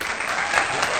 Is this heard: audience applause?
yes